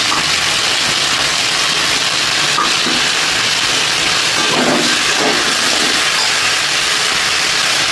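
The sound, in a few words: ginger cumin paste sizzling in hot pan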